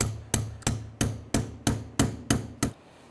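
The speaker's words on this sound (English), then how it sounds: "grab a punch, see if you can punch it outwards" Eight sharp metallic hammer strikes on a punch against a front lower ball joint of a 2003-2011 Honda Element land at an even pace, each ringing briefly before the next, then a short quiet at the end.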